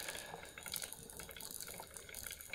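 Water churned in a stirring machine by a metal disc and a plastic cup gives a continuous faint sloshing, splashing and dripping wash, steady throughout with no voices.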